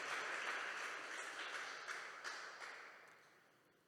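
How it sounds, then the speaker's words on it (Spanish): A church congregation at a Sunday service applauds in a steady wash of clapping that gradually fades away, heard from some distance and fairly faint. "Demos un aplauso al Señor de gratitud"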